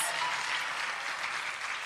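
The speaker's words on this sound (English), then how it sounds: "A big round of applause, please." Audience applause at a ministerial studio unveiling in Pretoria, a dense, even wash of clapping heard at moderate distance, steady throughout.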